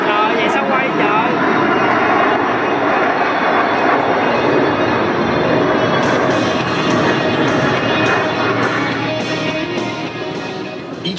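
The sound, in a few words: Blue Angels jet aircraft flying air show maneuver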